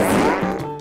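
Cartoon fart sound effect standing for a tiger's fart in a children's animated farm episode, a loud buzzy, wobbling blat lasting under a second, with stepped pitch drops toward the end and no talk over it.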